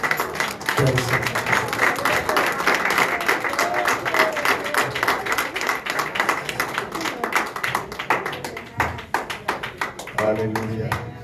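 A church congregation applauds during a worship service, with dense, sustained clapping from many hands throughout, mixed with voices and a speaker's talk over the top.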